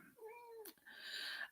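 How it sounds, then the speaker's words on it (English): A female cat in season lets out two drawn-out, wailing meows close to the microphone, the first bending downward and the second longer and higher, with a brief scuffle between them. "I do have a cat that's a bit noisy today because she's in season and doesn't like me speaking."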